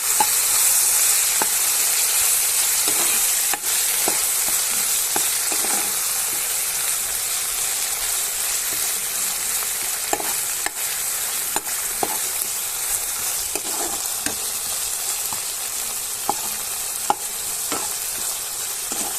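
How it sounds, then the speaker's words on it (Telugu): Mint stirred into frying masala for a prawn biryani gives a loud, steady sizzle and hiss, marked by regular sharp scrapes of the spoon against the pan, and nobody speaks. "కొద్దిగా పుదీనా కూడా వేసి బాగా కలుపుకోవాలి"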